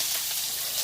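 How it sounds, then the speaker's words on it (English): Onions hitting about a tablespoon of olive oil in a skillet, a brief, steady bright sizzle. "I had just a little bit of oil, maybe a tablespoon of olive oil in my pan. Add my onions,"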